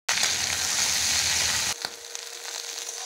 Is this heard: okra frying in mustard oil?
yes